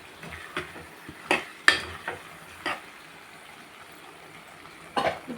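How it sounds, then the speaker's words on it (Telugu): A spatula stirs and mashes potatoes and tomatoes in a pan for an aloo curry: scattered, fairly soft scrapes and taps come at uneven intervals over a quiet background. "ఇప్పుడు మన గెరిటితో కళ్ళబెడతా ఉంటే కొంచెం మ్యాష్ అవుతున్నాయి"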